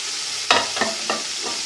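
Fat and tomatoes sizzle in a pot for chana pulao as a spoon stirs them, with four distinct scraping strokes spaced about every third of a second over a steady frying hiss.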